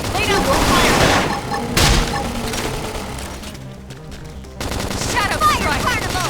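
Rapid automatic gunfire from the video game Xenoblade Chronicles X, loud bursts of shooting at the start and again near the end, with a quieter stretch between, mixed with game sound and music.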